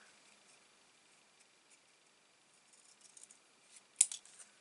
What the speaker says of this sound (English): And now just cut yourself a 45-degree angle.